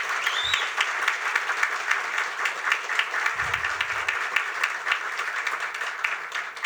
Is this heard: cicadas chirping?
no